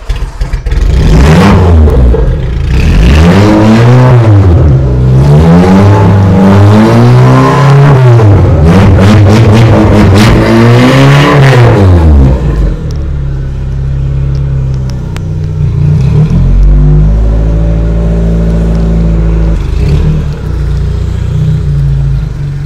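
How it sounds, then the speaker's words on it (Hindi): A cheap convertible car in India with its stock, unmodified silencer revs repeatedly and close up, engine pitch rising and falling in a run of loud revs over about twelve seconds, then settling into a steady rumbling idle. No speech. "भाई गाड़ी की आवाज़ सुनी,"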